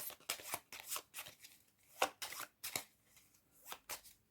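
Playing cards shuffled for a board game, a run of crisp riffling bursts repeating in quick succession, close and fairly quiet with no talk.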